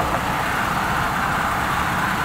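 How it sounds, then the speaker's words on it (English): Steady highway traffic roar from cars and trucks passing on a nearby highway in Longview, Texas, a constant broadband rumble with no breaks and no talking. "I'm right on the highway, so sorry for the highway noise."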